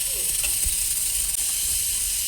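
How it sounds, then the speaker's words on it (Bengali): Water poured into a hot pan of potato and soybean curry sets off a steady, loud hiss of sizzling steam that holds for a couple of seconds, with no talk. "জল দিয়ে দেবো সামান্য পরিমাণ, আলুগুলো সিদ্ধ হওয়ার জন্য আর সোয়াবিনটা একটু সিদ্ধ হবে"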